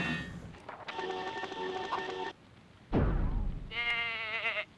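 A sheep bleats in the video game MediEvil: a long wavering bleat, then a falling swoosh-like effect and a second bleat, loud and close with no talk.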